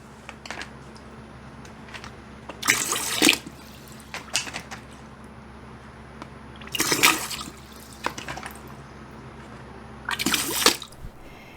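Water siphoned from an indoor citrus plant tray is poured back into a bucket in three separate splashing bursts, each a few seconds apart, with quiet dripping and faint handling noises between them.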